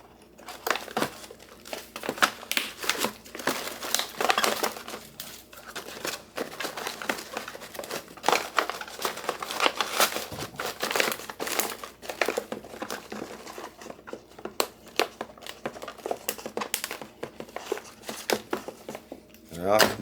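Plastic food pouches holding oxygen absorbers for Mexican beef and corn chili are zipped shut, giving continuous close crinkling and rustling of plastic with small clicks throughout, under faint background sound.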